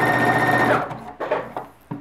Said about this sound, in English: to be able to just tap the foot pedal once and then it'll drop the needle